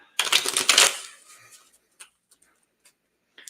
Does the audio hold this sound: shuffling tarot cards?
yes